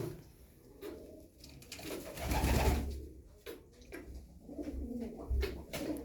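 Pigeons cooing nearby in soft, repeated throaty calls, with wing flutters and light shuffling sounds; no talking.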